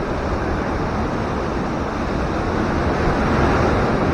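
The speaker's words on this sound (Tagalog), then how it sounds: "Ah, ang laki ng alon." Big ocean waves churned up by Typhoon Bebinca in the Philippines, a loud, continuous roar of surf and wind filling the whole span with no break.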